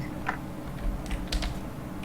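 Scattered keystrokes on a computer keyboard during a gaming livestream, a few light taps spread across two seconds, faint and alone.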